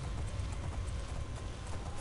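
A horse gallops in The Elder Scrolls IV: Oblivion, its hooves beating out a quick, steady clip-clop rhythm at close range.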